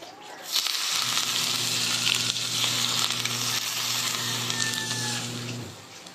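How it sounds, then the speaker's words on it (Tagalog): Hot oil, about three to four tablespoons, poured over steamed canuping, giving a loud, steady sizzle close by that starts abruptly and fades out near the end, with no talking. "yung pinainit na mantika. 3 to 4 tablespoon ng mantika at ilalagay natin yan dito"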